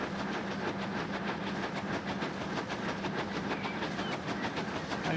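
Train wagons roll over rails on a UK route in the Transport Fever 2 video game. A fast, regular clickety-clack runs loud and steady throughout, with no talking over it.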